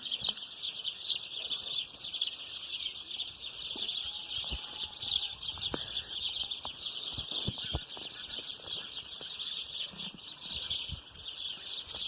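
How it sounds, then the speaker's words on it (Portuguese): Many small birds sing outdoors in a dense, bright chorus of overlapping chirps and tweets, steady throughout, with a few soft thumps and no talking. "tá cheio de passarinho cantando, hein?"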